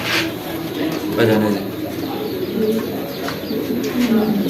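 Pigeons coo repeatedly at a pigeon farm, soft throaty calls overlapping close by with a few chirps, while people talk throughout.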